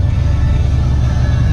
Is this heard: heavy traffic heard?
yes